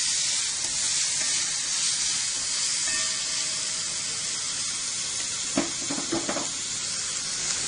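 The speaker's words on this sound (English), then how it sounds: "Now I'll add onion and pop it till it becomes a bit translucent." Onion sizzles in a pan for a vegetable kathi roll, a continuous close hiss of frying, with a few short scraping stirs late on.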